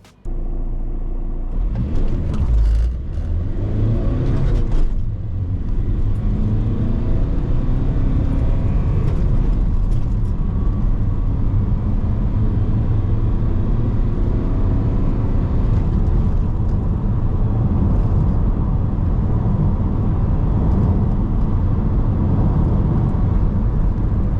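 A VW Transporter T5 van with a remapped 1.9 TDI diesel engine accelerating hard from 0 to 60, a loud, continuous engine drone and road rumble heard from inside the cabin, rising through the gears with brief shift dips, no talking.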